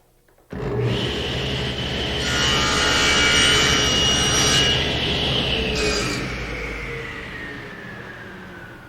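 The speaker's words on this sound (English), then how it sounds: "Now I can head over to the table saw and miter the ends." A table saw miters the ends of a wooden board for a small auxiliary workbench: the motor spins up sharply, then a loud, sustained whine and rasp of blade through wood fills the cut before slowly tapering off.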